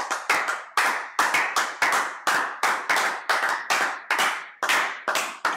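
A church congregation claps in praise of the Lord, loud, steady rhythmic applause of many hands, about two claps per second, close and continuous with no talking.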